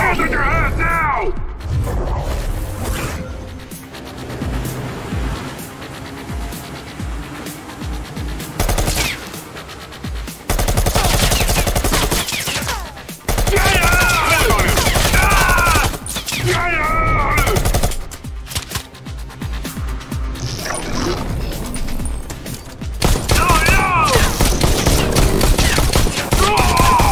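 Gunfire in the VR game Bullet Train rattles in dense, loud bursts and sustained fusillades with mechanical clatter, as game voices and a player speak over much of the shooting.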